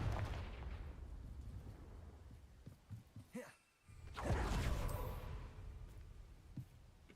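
A rumbling explosion from the Confringo blast spell in the video game Hogwarts Legacy fades out, then after a brief near-silence a second loud blast bursts and rolls on, with scattered smaller crackles.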